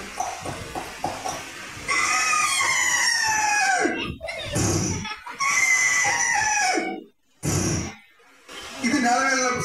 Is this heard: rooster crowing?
yes